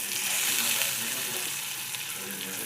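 Pieces of bottle gourd hit a pan of hot chili-garlic tempering with cumin and mustard seeds, giving a steady, fairly loud sizzle and crackle throughout.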